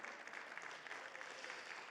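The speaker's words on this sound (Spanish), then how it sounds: "Fuerte aplauso al Señor, por favor." Congregation applauding during a church service: a brief, steady wash of many hands clapping together, even and sustained, moderately distant with no voices on top.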